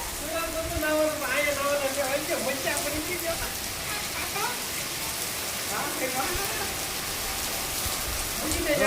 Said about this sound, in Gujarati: અમારા ગામમાં વરસાદનું આગમન થઈ ગયું છે